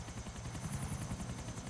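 Buzzard helicopter flying in Grand Theft Auto IV: The Lost and Damned, a steady, close rotor thump with rapid, even blade pulses over a constant engine whine, with no talk.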